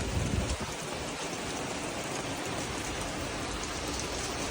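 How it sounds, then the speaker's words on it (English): Steady, dense rain drums on a sailboat with a constant wash of drops, loud and close, with no voices. "It's raining, so I'm trying to get a view here."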